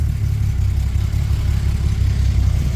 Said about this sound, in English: the engine is running fine right now